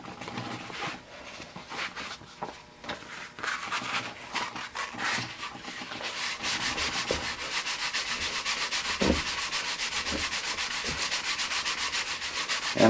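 The gear mating surface of a limited slip differential from a 2010 Chevy Camaro SS is cleaned by hand, producing steady, rhythmic rubbing and sanding strokes that grow denser and louder.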